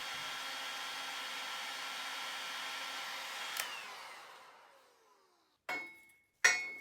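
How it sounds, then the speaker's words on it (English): A heat gun aimed at a seized bicycle headset lock nut gives a steady, close airy roar that slowly winds down and fades out, followed by two sharp metallic clatters. "Next, I apply heat with my heat gun in hopes that it loosens things up."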